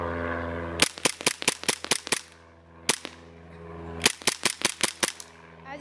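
Rapid bursts of sharp cracks from an Echo 1 Timberwolf gas blowback airsoft pistol, two quick strings of about seven shots each separated by a single shot, loud and close with no talking.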